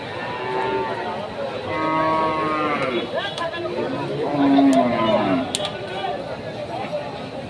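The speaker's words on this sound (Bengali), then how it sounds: "এই হচ্ছে চিত্র হাটের, বুঝলেন? ষাঁড় গরু দেখেন দেখেন।" Sahiwal bulls at a busy cattle market give several drawn-out moos, loud and close, over a constant murmur of crowd chatter and people talking nearby.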